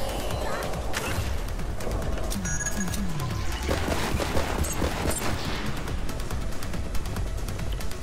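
Gunfire in the co-op shooter Borderlands 3, with repeated sharp shots cracking amid a busy, dense battle din of game effects and mechanical clatter, continuous and loud throughout.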